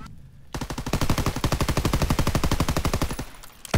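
Automatic gunfire in a WW2 first-person shooter game: a loud, sustained burst of rapid, evenly spaced shots starting after a short quiet lead-in and running for about three seconds.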